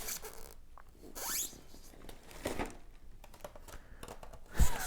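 Crinkling plastic bags and cardboard rustling as an Atari XEGS console box is opened and its contents handled, irregular close-up rustles and scrapes with a sharper knock near the end.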